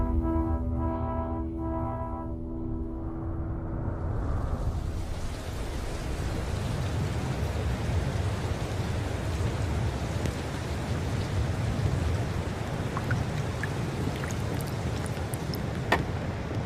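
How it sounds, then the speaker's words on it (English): Heavy, steady rain pours down in Alaska, a dense continuous wash of noise that swells in after a low tonal hum fades in the first few seconds, with no talking. "with this much rain coming down like literally non-stop"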